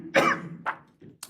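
During a council meeting, a person gives a few short coughs in quick succession, close and fairly loud, with brief quiet gaps between them.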